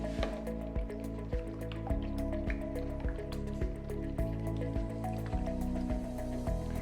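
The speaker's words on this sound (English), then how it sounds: "I have 2 eggs in here that I'll mix up really quick" Two eggs with a splash of water being whisked in a bowl for challah dough, giving a quick, steady series of wet, sloshing clicks close by.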